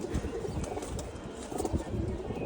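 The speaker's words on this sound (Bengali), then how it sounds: "এই যে একটা কবুতর" A small female pigeon in a loft gives soft, faint fluttering and scuffling with a few low coos, close by but quiet, with no talking.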